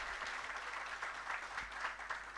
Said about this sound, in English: let's give a hand clap to the media team for